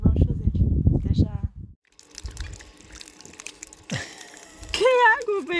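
Water bubbling up from a fountain at a riverside camper park, splashing and trickling close by, with people talking loudly before it and a voice cutting in at the end.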